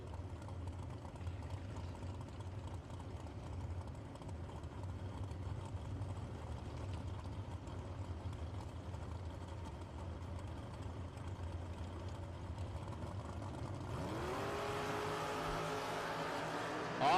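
Drag racing dragsters idle at the line of a racetrack at a bulb nationals event, a steady low engine rumble that swells into a louder, rising roar as they launch near the end.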